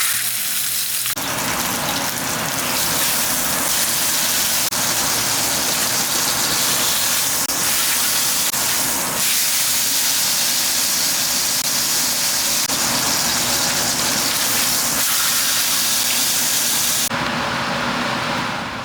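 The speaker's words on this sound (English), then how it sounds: "So we're just going to put our steak, and then every 15 to 20 seconds we're going to flip it." A Wagyu rib eye steak sears in a hot oiled pan with a loud, continuous sizzle and hiss that holds steady throughout, briefly shifting as the meat is flipped.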